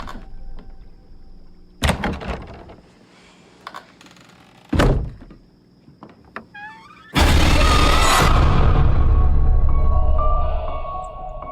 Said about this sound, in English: Can you close the closet door?